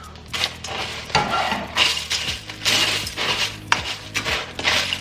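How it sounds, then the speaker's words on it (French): A spoon stirs a sticky marshmallow mixture into cereal in a bowl, giving repeated scraping, clacking strokes with a steady rhythm, close and fairly loud, with no voices. "Je vais mettre dedans le mélange de guimauve. Et on mélange."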